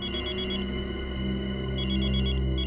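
A telephone rings in repeated electronic bursts, a steady tone pattern that pauses and then resumes, fairly quiet with no talking.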